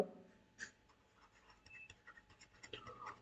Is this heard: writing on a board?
yes